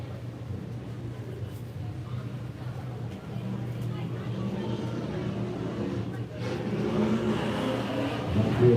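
Drift cars rev and roar at a Riverside Drift competition, a steady engine drone building louder toward the end, heard under a commentator's talk.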